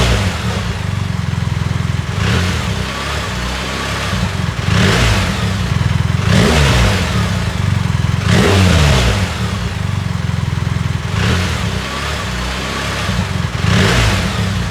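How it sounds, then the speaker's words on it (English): A BMW R1300GS motorcycle fitted with an Akrapovic exhaust revs repeatedly, its loud, close engine rising and falling in several throttle blips over a constant rumbling idle, with no voices. "Okay, now we've got the R1300GS. This is the Akrapovic can."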